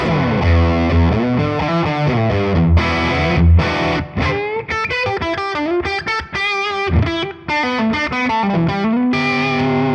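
High-gain distorted electric guitar through a TONEX amp model at the fifth gain level, played alone with thick sustained chords and melodic runs, loud and continuous throughout.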